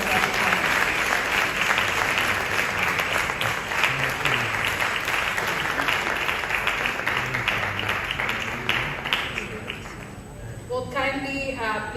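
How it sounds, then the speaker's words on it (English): Loud, sustained audience applause fills a hall at the EVE Woman's Conference 2024 in Accra, a dense wash of clapping with crowd voices mixed in that fades near the end as a speaker's voice takes over. "A round of applause."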